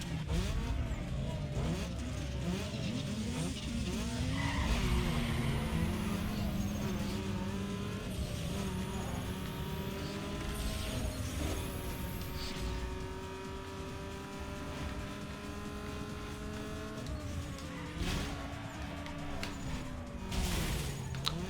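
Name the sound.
cars in a drag race in the video game Need For Speed Underground 2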